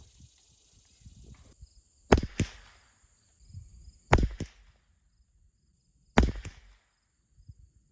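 Three sharp AR-22 rifle shots at a 50-yard target in an SK Rifle Match session, spaced about two seconds apart, each a crisp crack with a short tail, amid quiet outdoor ambience.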